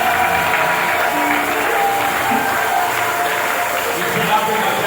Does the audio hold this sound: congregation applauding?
yes